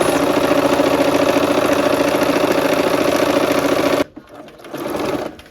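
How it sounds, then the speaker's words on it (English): Sewing machine running steadily at speed for about four seconds while stitching a quarter-inch seam on a quilt block, then stopping abruptly, followed by a softer, brief whir. "sew a 1/4 inch on both sides of that line"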